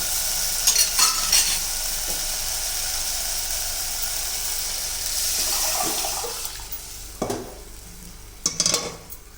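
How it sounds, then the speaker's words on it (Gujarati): Dal poured into hot oil for a dhaba-style dal tadka gives a steady broadband sizzle that carries through, with a few louder splashy bursts and stirring near the end, close and fairly loud, no talking. "હવે આપણે એમાં દાળ એડ કરી દઈશું"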